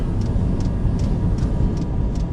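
A loud, steady rumble of a train passing a busy Yorkshire railway station, with faint periodic clicks from the wheels, heard continuously and fairly close.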